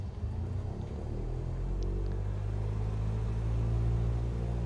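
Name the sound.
aircraft engine at 1,800 RPM in Microsoft Flight Simulator 2020 video game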